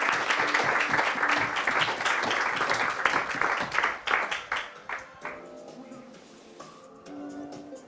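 An audience applauds loudly at a science communication contest final as a contestant is welcomed on stage; dense clapping fills the first half, then thins into scattered claps and fades with a voice talking at the end.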